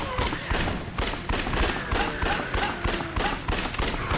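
Rapid bursts of automatic gunfire from the Yakuza Dead Souls video game crackle in a steady, repeated rhythm, each volley closely spaced and loud, continuing for about four seconds.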